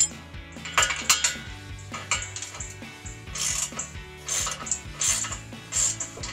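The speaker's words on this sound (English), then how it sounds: "now we're going to take the flange apart using 9/16 inch, good 1/2 inch ratchet" Half-inch ratchet working 9/16 exhaust flange bolts loose on a 2017-2022 Ford F-250: rapid metallic clicking bursts of the pawl, repeated in short runs with brief pauses, close and fairly clear.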